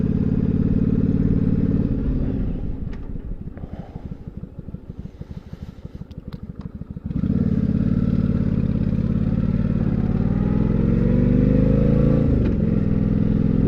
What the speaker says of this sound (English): Lots of power coming off the line with this bike.